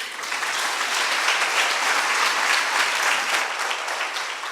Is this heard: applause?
yes